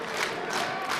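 A wrestling crowd cheers and roars in a brief, steady burst of massed voices, distant and washy.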